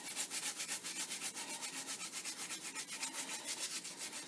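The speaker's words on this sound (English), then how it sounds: "take 1/4 to 1/2 of an onion and you're going to grate it to get the juice." A piece of onion is grated by hand, a close, quiet, rhythmic rasping of quick repeated strokes at a steady pace with no talking.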